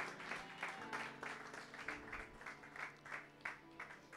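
A church congregation claps in a steady rhythmic beat, acclaiming the Lord with many hands striking together in regular pulses, faint and somewhat distant.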